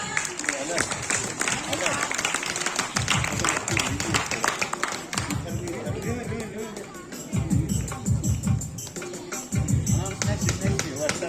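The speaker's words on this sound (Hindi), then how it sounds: "जोरदार तालियां।" Applause from the audience at a parish competition prize-giving during a May procession celebration, steady clapping running throughout under an announcer's voice and background chatter.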